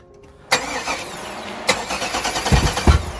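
A revived junkyard car engine cranks with a sharp burst, briefly falters, then catches and runs at a rough, loud idle close by.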